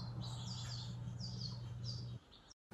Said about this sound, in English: These are lesser goldfinches.